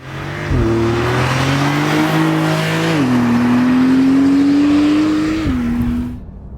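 A Porsche 992 911 Turbo S accelerates hard on the road, its loud engine note climbing through several gear changes over about five seconds before cutting off.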